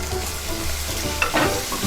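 Ginger garlic paste sautéing in a pan with green chillies for veg pulao: steady close sizzling and frying with a brief stirring scrape, without talk.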